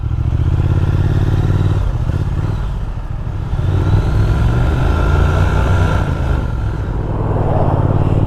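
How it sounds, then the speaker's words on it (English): A 2020 Triumph Speed Twin's engine pulls strongly in sport mode while riding, its low throbbing exhaust note steady and close, with a shift and slight dip partway before the revs climb again. "It's really smooth too, it sounds great."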